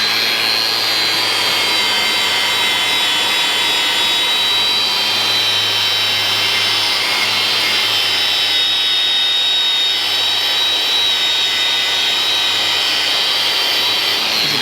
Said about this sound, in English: So we're just gonna wire wheel it.